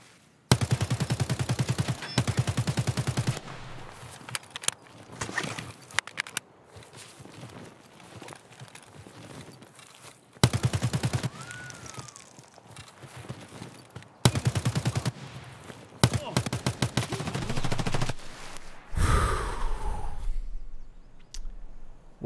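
Gunfire from armor-piercing rounds in the video game Escape from Tarkov, loud close bursts of rapid shots in several separate volleys with quieter gaps between them.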